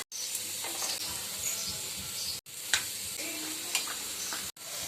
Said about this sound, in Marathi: आता आपण फ्राय करून बघूया पहिला हा फिक्कावाला